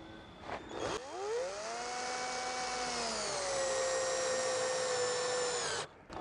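Power drill driving screws through timber into another piece while it rests on a vintage wire crate for a garden plant cart, one steady whirring run of about five seconds, close and loud, with short bursts before and after.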